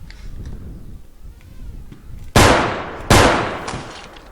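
Two loud, sharp gunshots crack out from the street in a realistic bodycam-style shooter game, spaced under a second apart, each with a ringing decay over quiet background noise.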